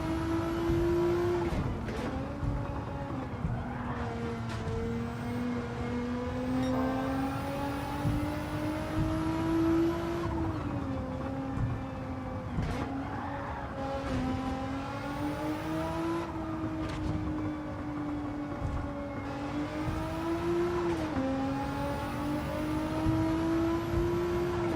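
Audi R8 engine in a racing video game, a steady high-pitched mechanical whine that rises and falls through gear shifts, revving up and easing off in repeated waves, loud and close throughout.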